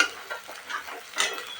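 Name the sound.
boiled moth beans (matki) frying in oil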